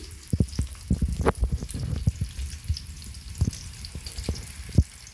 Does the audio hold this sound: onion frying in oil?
yes